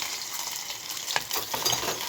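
Ginger and garlic sizzle steadily in hot frying oil for a Kerala fish curry, a close hiss broken by a few scraping stirs and light metallic clinks.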